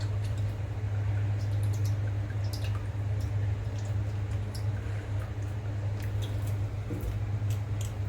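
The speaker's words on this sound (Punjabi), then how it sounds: "ਹੁਣ ਆਪਾਂ ਪਾਵਾਂਗੇ ਇਹਦੇ ਵਿੱਚ ਸਰੋਂ ਦਾ ਤੇਲ" Mustard oil is poured into coconut oil for homemade hair oil, giving scattered small drips and wet squishy taps over a steady low hum, moderately quiet and close, with no speech.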